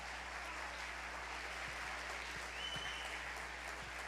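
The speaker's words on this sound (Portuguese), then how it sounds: "se é para Jesus, aplauda mais forte." A church congregation applauding, dense sustained clapping from many hands filling the room evenly, steady and moderately loud throughout.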